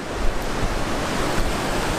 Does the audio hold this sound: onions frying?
no